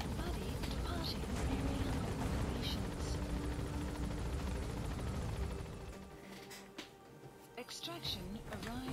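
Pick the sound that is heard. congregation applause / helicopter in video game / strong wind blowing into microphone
helicopter in video game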